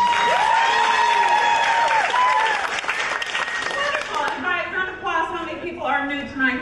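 A stand-up comedy audience applauds and cheers in a steady wash of clapping, with a voice talking over it.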